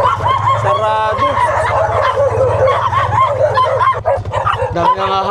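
Dog barking near a roadside eatery in the Philippines, mixed with rooster crowing and chicken clucking, with people talking over a steady low hum throughout.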